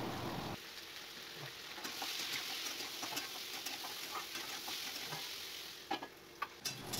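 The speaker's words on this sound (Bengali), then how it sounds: "এবার আমি এই তেলের মধ্যে একটু কালো জিরে আর শুকনো লঙ্কা ফোড়ন দিয়ে আর নুন হলুদ দিয়ে আলু ভাজা করে নেবো" Potatoes fry in oil tempered with black cumin seeds and dried red chilli, with salt and turmeric, giving a steady dense sizzle and a few soft stirring clicks near the end, close and continuous without speech.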